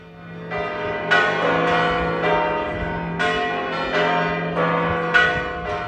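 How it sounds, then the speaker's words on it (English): Cathedral bells in Santiago de Compostela peal loudly and continuously, several bells overlapping in a dense, ringing clangour with fresh strikes every second or so and no voices. "the bells suddenly start to ring with fury"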